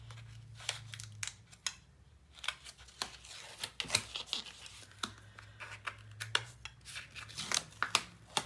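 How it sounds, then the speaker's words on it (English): Tape being pulled and pressed onto a paper album cover while making a 6 x 8.5 folio, giving a run of close, sharp crinkly tearing and rustling bursts with no talk. "I'm going to commit the tape"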